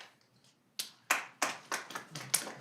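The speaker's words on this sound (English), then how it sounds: "No clapping, please." Audience at a city council meeting clapping in a brief, sparse patter of separate claps that quickly fade, several distinct hand claps spaced out rather than a full ovation.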